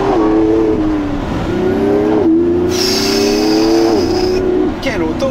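Lamborghini Revuelto, a 1015 hp V12 hybrid, accelerating with a steady droning engine tone that rises through gear changes, close and loud beneath someone talking inside the cabin.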